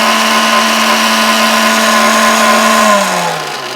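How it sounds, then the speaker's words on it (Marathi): A kitchen mixer grinder runs loudly and steadily while blending a homemade herbal hair paste, with a constant motor whine that then winds down as it is switched off near the end. "आपला मिक्सर आता फिरतोय छानपैकी"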